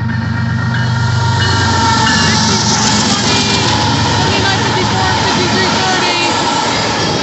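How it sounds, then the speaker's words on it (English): A northbound Union Pacific grain train led by locomotive UP 5282 rumbles by close and loud, a continuous roar of wheels and rolling cars that holds steady throughout. "This looks like a northbound UP train."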